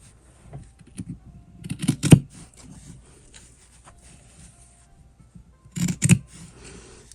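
Scissors snip through patchwork fabric squares, a few short crisp cuts clustered together, then a quiet stretch before another brief burst of cutting, close and alone with no talk.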